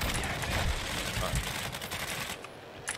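A shotgun fires repeatedly in Call of Duty: Modern Warfare II, with loud close blasts in quick succession, and someone talks over the shots.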